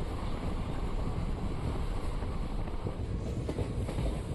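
Bengaluru–Hospet intercity train rolling into Talaku railway station: a steady, loud rumble with wind buffeting the microphone, continuous throughout with no voices.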